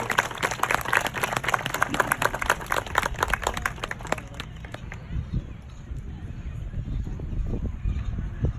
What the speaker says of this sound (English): Give Radar a big round of applause.